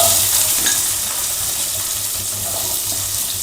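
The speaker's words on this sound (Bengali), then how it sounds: "তো পেঁয়াজটা হালকা হালকা করে ভাজা হয়ে গেছে আমার" Chopped onions frying in a little oil, a loud continuous close sizzle with a watery crackle and no speech.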